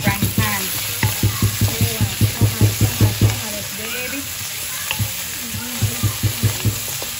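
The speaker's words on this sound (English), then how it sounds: "also adding on some nyama choma, but we're doing it on a choma on the frying pan" Nyama choma meat sizzling in a frying pan, a steady crackling hiss with rhythmic scraping or stirring strokes through most of the clip, close by.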